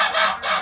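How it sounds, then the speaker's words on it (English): Young guinea fowl penned with chickens and new birds give harsh, honking calls in two close bursts, loud and near. "I'm actually not really too surprised to see the guineas in here."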